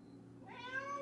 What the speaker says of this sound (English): She's probably gonna be meowing like crazy.